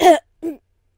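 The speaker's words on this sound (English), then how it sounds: "She coughed." A voice gives two short coughs, close and clear, the second softer, performed during a dramatic story reading.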